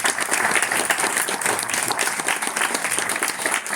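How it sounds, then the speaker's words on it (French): An audience at a talk show applauds a guest, a dense, even wash of clapping from a sizeable crowd that holds steady and loud throughout. "Non, on peut applaudir Sarah quand même."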